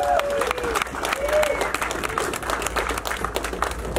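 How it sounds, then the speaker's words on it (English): Applause rises from an audience at an event where a guitarist is being welcomed to the stage, steady dense clapping filling the space while a voice talks over it. "Give him a big round of applause."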